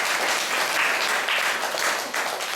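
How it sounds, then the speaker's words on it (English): Applause from a congregation at a Sunday class in the ISKCON temple in Atlanta, a loud, dense and sustained clapping that fills the space throughout. "So let's give a round of applause for"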